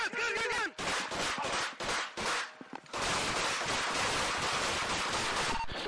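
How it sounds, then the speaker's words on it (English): Gunshots ring out in a police confrontation, loud, harsh bursts of noise in quick succession amid chaotic shouting. "shots fired, shots fired"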